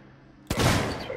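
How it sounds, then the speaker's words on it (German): Gunfire in the survival horror game Alien: Isolation, a sudden loud burst that kicks in after a quiet stretch and rolls on as sustained, dense shooting. "Ey, der braucht aber viele Schüsse."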